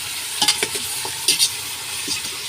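Pork leg and bone pieces sauté in a pan over a wood-fired stove, a steady close sizzle broken by several sharp utensil scrapes and clinks.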